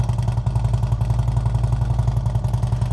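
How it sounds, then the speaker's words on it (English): Exhaust of a 2009 Harley-Davidson CVO Road Glide motorcycle idling, a loud, close, steady low rumble with an even, loping pulse and mechanical clatter, with no voices over it. "All right, and we'll let you hear what that exhaust sounds like."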